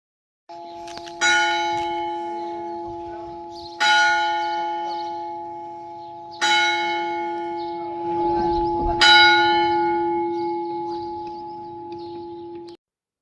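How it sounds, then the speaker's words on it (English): Church bells toll four times at a slow, steady pace, each strike ringing loud and close with a long humming resonance between. "I thought it was neat to hear the church bells"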